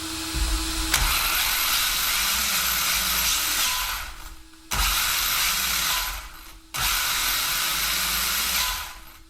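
An ARRMA Typhon RC car's electric motor spins its unloaded tires at about one-eighth throttle in three short bursts, each a loud whirring hiss that cuts in sharply and fades over a few seconds.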